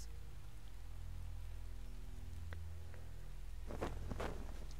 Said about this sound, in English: it immediately starts raining